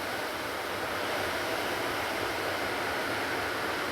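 Rain falls steadily over a Kerala garden as a dense, even hiss and patter that stays constant throughout, with no talk or other sounds.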